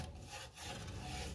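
Sandpaper rubs over a freshly wheel-thrown clay pot, making a soft, continuous rasping scrape with slight stroke-to-stroke swells. The sound is fairly quiet and close.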